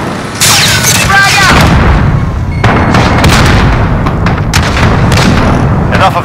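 A frag grenade blast in Call of Duty Modern Warfare 2019, loud and close with a sharp boom, mixed among dense gunfire and battle noise, with game voice callouts over it.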